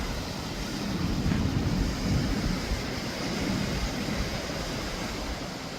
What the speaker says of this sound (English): I just also want to show you the waves because they are incredibly wild today